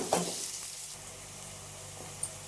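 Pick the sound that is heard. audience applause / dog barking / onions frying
onions frying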